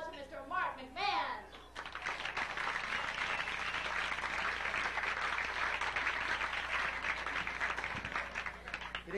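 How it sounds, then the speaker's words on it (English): Loud applause from a stand-up comedy audience as the comedian is introduced, steady and sustained for several seconds after a brief burst of voices at the start. "A big round of applause for Mr. Mark McMahon."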